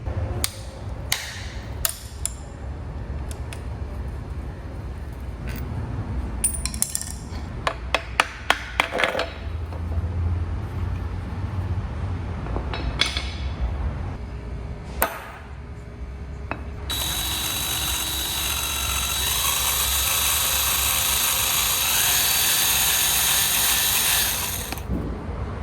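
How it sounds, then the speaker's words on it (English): A handheld drill boring out a sheared pin on a Duramax diesel crankshaft in a workshop, with scattered clicks and ratcheting knocks early on, then a long steady high-pitched drilling whine that runs to the end. "I'm just here drilling out a pin that was sheared on the crank"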